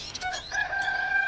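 A rooster crows among chickens on a rural household farm where eggs are gathered, the crow rising clearly over a steady bed of farmyard clucking for about a second.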